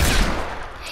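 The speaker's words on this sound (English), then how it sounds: "You started shooting me before you said go." Gunfire from a video game 1v1 shooting match: a loud, dense burst of rapid shots at the start that tails off over about a second, heard alone with no talk.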